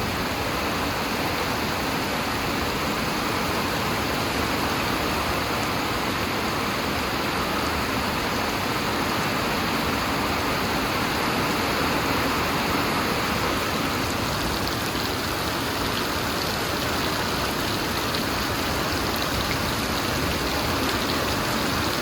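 Steady heavy rain pours continuously, a dense hiss of drops drumming on surfaces throughout, with no voices or other sounds.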